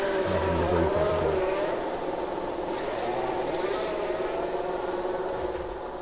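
Formula 1 race car engine leaving the pits in the F1 Manager 22 video game, a steady droning whine under continuous speech, loudest at the start and holding level throughout.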